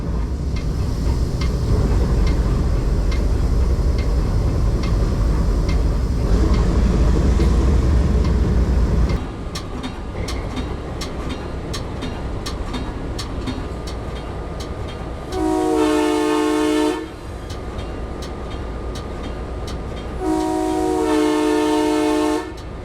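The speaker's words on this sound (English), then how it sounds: "As our train makes its way out of downtown Peninsula" Cuyahoga Valley Scenic Railroad train rolling out of Peninsula, a heavy rumble giving way to rhythmic clacking of wheels on rail joints, then two loud, sustained horn blasts sounding nearby.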